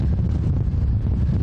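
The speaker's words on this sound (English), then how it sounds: "It just gets really windy up here." Strong wind buffets the microphone on a mountain summit, a steady low rumbling roar with gusty fluctuations and no other sounds.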